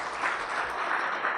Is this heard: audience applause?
yes